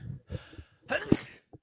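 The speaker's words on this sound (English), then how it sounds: "just an aggressive sneeze" A short, forceful sneeze bursts out after a couple of soft breaths and murmurs, loud and close, followed by a faint trailing exhale.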